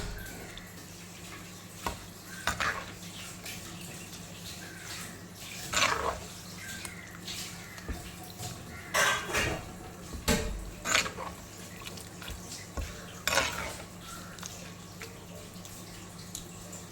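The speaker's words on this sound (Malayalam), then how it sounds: "സ്പൂൺ വെച്ചിട്ട് നന്നായിട്ടൊന്ന് ഉടച്ച് ചേർത്താൽ മതി." A spoon presses and mashes cooked chickpeas in a pot for a Kerala-style kadala curry, producing irregular wet squelches and knocks against the pot over a low steady hum, close by.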